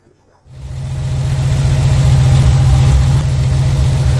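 A Porsche 993 Carrera 4 Cabriolet's rear-mounted, air-cooled 3.6-litre flat-six engine starts and settles into a loud, steady idle with a deep, continuous rumble, close by.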